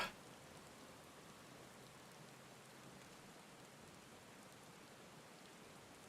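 Steady rain falls in the Final Fantasy XIV video game, a soft, even hiss of drops with no breaks, quiet and constant throughout.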